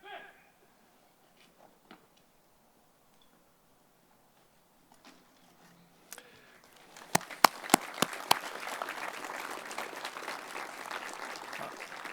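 A round of applause at the Muskoka Lumber Community Centre grand opening for the Bracebridge Legion Pipes and Drums and Color Guard, starting after several seconds of near quiet with a few sharp claps and then building into steady, moderately distant clapping.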